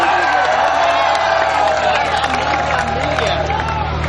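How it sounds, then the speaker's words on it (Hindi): Crowd noise from an intermediate school farewell party audience carries throughout, a loud wash of cheering and scattered clapping mixed with excited voices and whoops. "तालियां कम है, बहुत कम तालियां"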